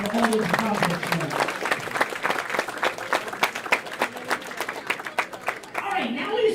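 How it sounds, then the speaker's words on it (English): Audience applause at a bowling league season awards ceremony, a steady patter of many hands clapping that thins into scattered claps before swelling again, with faint voices beneath. "give yourself a round of applause for all those accomplishments"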